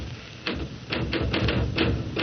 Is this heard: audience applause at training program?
no